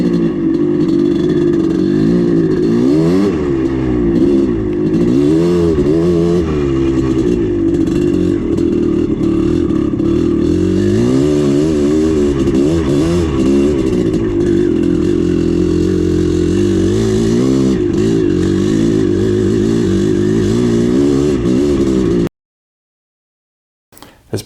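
A rebuilt Maico 440 dirt bike engine runs loud and close, revving up and down repeatedly with a rough, clattering two-stroke note for over twenty seconds before cutting off abruptly.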